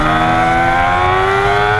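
Yamaha R6 four-cylinder sport motorcycle roaring at high revs, a loud, close, sustained howl from engine and exhaust with a rising pitch and no speech over it.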